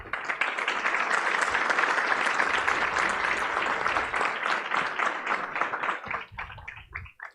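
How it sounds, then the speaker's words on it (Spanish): Sustained applause from an audience at an economic forum panel, dense and steady clapping that thins out and fades near the end. "Vamos a recibirlos con un fuerte aplauso."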